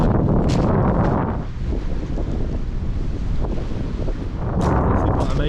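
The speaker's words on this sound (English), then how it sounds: "Stood up here, it's very windy." Strong gusts buffet the microphone on a coastal clifftop overlooking the sea near a castle and lighthouse, a loud continuous roar with heavier blasts at the start and end and possible surf beneath.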